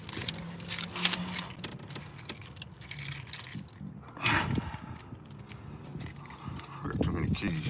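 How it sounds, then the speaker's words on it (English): A large bunch of keys jangles and rattles repeatedly over several seconds at close range as someone comes home, with voices and indoor movement around it. "I got too many keys, y'all."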